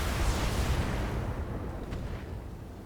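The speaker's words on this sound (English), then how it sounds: "Both Gauss rifles miss." Heavy booming weapon fire from a pair of Gauss rifles on a Sidewinder mech in the Battletech video game, a loud rumbling blast that decays over a few seconds, with no talk over it.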